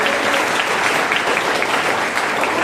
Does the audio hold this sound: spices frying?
no